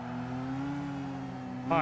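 A car engine in the racing game Gran Turismo 5, a steady mid-pitched drone holding one tone, then rising sharply in a quick rev at the very end; no speech.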